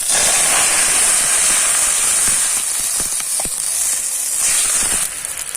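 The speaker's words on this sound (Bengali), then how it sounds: "এখন আমি দিয়ে দেবো জল।" Water hitting a hot pan of fried mustard seeds and green chillies for a fish dish, making a loud, steady hissing sizzle of steam throughout, with scattered crackles and a slight easing near the end.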